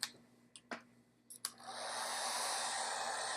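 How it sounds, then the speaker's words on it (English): A hair dryer switches on after a few clicks and handling knocks, then blows with a steady, loud broadband whoosh, used to dry a watercolor painting. "hold on, I got to plug in my hair dryer."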